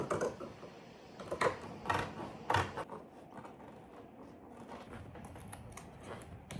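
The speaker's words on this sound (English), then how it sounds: "I will cut this other layer a little bit shorter" Scissors cut through a layer of fabric in several short, faint snips and crunches, with softer handling rustles between them and no talking.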